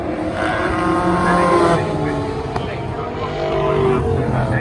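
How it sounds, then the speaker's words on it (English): V8 race cars at Brands Hatch circuit during a historic American-themed race meeting make a steady roaring engine drone with a rising and falling pitch as they pass, heard under a commentator's continuous talk. "Third place, Walden 41 crosses the line now"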